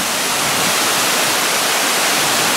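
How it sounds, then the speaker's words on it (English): Wind below a dam makes a loud, steady, broadband roar that fills the whole moment without pause, close and unbroken, with no voices. "picked up winds again. Below the dam."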